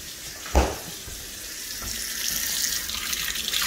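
Water runs steadily from a kitchen tap in a house, a broad continuous hiss that starts with a brief knock and then keeps flowing and swelling slightly, with no talk over it.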